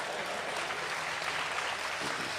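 Steady, dense audience clapping at a Marwari comic talk, close and continuous without any voices over it.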